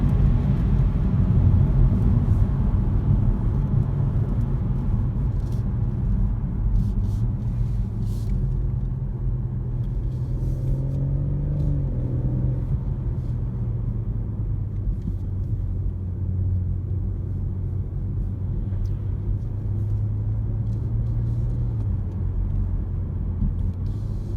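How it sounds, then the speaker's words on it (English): A BMW M140i Shadow Edition hot hatch pulls hard in sports mode, its engine a loud, continuous low rumble that swells and climbs steadily through the run with no talking. "you just go into sports mode and you just plant your foot and off you go"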